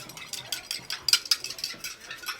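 A spoon stirs saffron into a little hot water in a small bowl or cup during risotto preparation, giving a quick series of light, close clinks and scrapes in a brisk, uneven rhythm.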